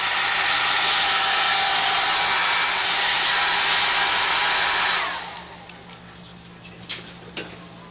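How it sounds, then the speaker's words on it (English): A hair dryer blows steadily on a watercolor painting, a loud continuous whir that cuts off partway, leaving a quiet room with a few light taps. "let's blow dry this part real quickly"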